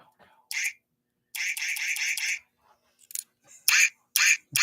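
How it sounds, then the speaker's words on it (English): A quacking duck toy keyring squeezed in short bursts: one quick quack, then a run of rapid quacks, then several more separate loud quacks close to the listener. "It's a quacker. It's not a quack bang,"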